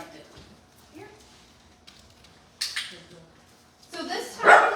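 A dachshund puppy in a puppy training class gives a few short yips and barks, the loudest near the end, with people talking around it indoors.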